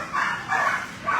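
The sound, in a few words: dog barking at an animal shelter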